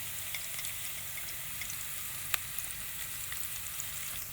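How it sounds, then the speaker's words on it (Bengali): Spices for aloo ghati fry in hot oil in a pan and are stirred, giving a steady, even sizzle that fills the whole stretch, with a few small pops and faint scrapes. "দিয়ে খুব ভালো করে মশলাটা একদম কষাতে হবে"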